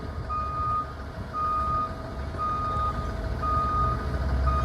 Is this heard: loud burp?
no